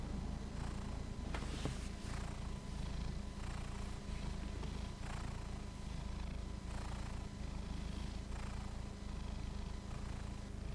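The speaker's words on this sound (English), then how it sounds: "that cat. He is just purring." A cat purrs up close in a steady, low, rumbling rhythm of repeated breathy cycles, quiet and continuous, with no one talking over it.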